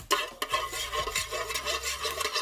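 Chillies stir-fry in a little oil in a pan for Thai buffalo om curry, a spatula scraping and stirring through a close, continuous sizzle, with no talking.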